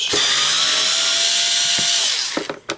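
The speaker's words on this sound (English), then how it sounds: "We're going to take out all the screws" A power screwdriver backs screws out of a coin hopper from a vending machine with a loud, high whirring buzz held for about two seconds, then winds down, followed by a few clicks and clatters.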